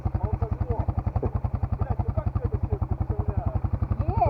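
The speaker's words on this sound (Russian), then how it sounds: "Заведи мотоцикл ты!" An enduro motorcycle engine in a village setting, running with a fast, even thumping pulse, close and steady, with faint voices in the background.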